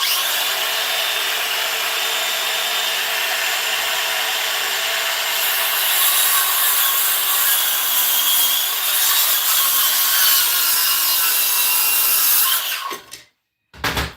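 A saw trims a piece of wood during home demolition work, cutting with a loud, steady, continuous rasp for about twelve seconds before stopping abruptly.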